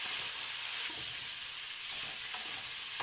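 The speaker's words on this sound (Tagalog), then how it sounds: "Halo-haloin muna natin hanggang sa mag-half cook yung ating vegetables" Red and green peppers with beans are stir-fried in a pan, giving a steady, continuous sizzle with soft stirring underneath that holds at an even level throughout.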